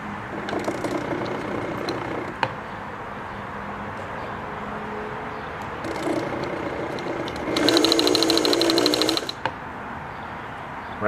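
Singer Touch and Sew 750 sewing machine winding a bobbin, a steady mechanical whir with ticking clicks that swells into a louder, buzzier run for a couple of seconds near the end.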